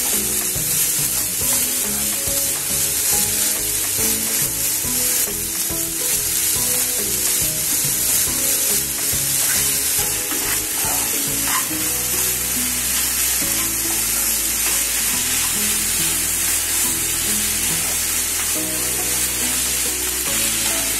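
Fresh grated coconut filling for Maharashtrian karanji cooks dry in a pan over low gas, giving a steady, close sizzle with scraping stir strokes throughout and no talk.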